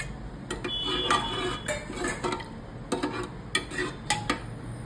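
A spoon stirs moong dal with freshly added coriander and water in a metal pot, with soft scraping and light clinks against the pot that grow into sharper taps toward the end, close by and with no talking.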